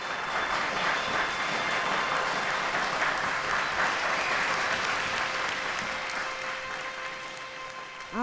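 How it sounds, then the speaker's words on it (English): Thunderous applause from a crowd at a women's rights convention in Rochester, New York, a steady, sustained wash of clapping that holds at an even level throughout before easing slightly near the end. "She was introduced to thunderous applause."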